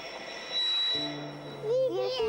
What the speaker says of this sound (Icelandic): Svo hægir lestin á sér meir og meir.